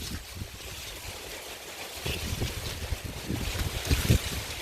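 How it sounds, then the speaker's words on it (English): Wind blows hard outdoors in a garden of ice cream bean and jackfruit trees, roaring steadily against the microphone with gusts that grow stronger toward the end. "Sorry for the wind, it's a bit windy."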